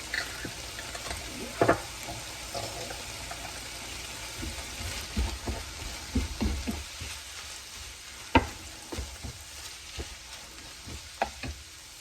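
Onions and garlic fry in a skillet for goulash, a steady close sizzle with occasional stirring scrapes and clicks throughout.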